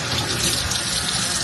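Tap water runs steadily and rinses out barrels, a continuous close splashing rush with no pauses and no talking.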